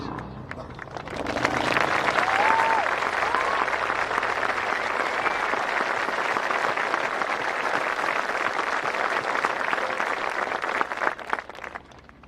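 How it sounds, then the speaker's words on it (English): A large crowd at a high school graduation applauds steadily for about ten seconds, the clapping dense and sustained before tapering off, with a few voices underneath. "please stand now to be recognized with a round of applause."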